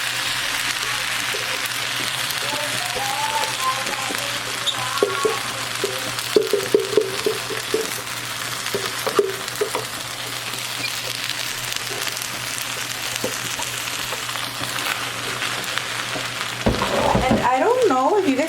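Blended chipotle sauce hits a hot pan for chicken in chipotle, raising a steady close hiss and crackle that runs throughout under intermittent talking, swelling louder near the end.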